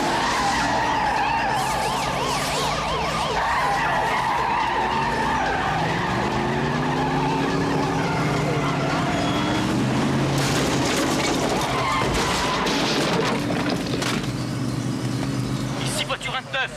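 Police car in a film chase skidding with screeching tyres, then crunching into a wall, loud and close amid engine roar and siren-like tones, with voices talking over it.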